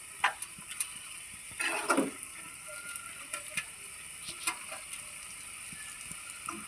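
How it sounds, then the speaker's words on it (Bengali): Spinach is stirred and fried in a pan, giving a faint, steady sizzle broken by soft scraping and clicking of a utensil and a brief louder rustle of stirring. "ভালো করে নাড়াচাড়া করে ভালো করে মিশিয়ে দিচ্ছি যাতে নুন ঝালটা ভালো করে বসে"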